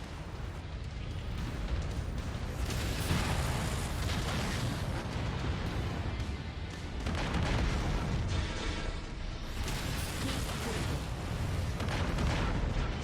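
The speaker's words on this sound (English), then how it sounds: "That thing's gonna explode." A mech explodes in the video game MechWarrior 5, a loud, sustained rumbling blast with crackling bursts that keeps roaring for the length of the clip.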